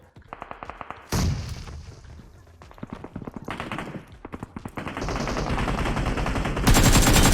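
Automatic fire from M416 and AKM rifles in the battle royale game PUBG: rapid, loud bursts of shots, some overlapping as if from several shooters, building into near-continuous fire toward the end, with no speech.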